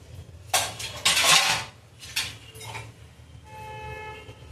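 A pot of hot milk is moved aside on a kitchen stove, giving a few loud metallic clanks and scrapes close by, followed by a quieter ringing tail.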